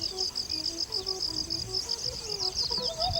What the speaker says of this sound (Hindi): हवा में पक्षियों की चहचहाहट गूंज रही थी।